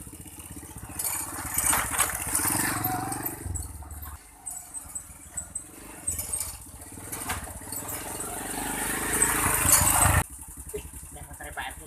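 A motorcycle engine runs close by, a rough, fluctuating mid-pitched rumble rising and falling over several seconds before cutting off abruptly, with people talking over it.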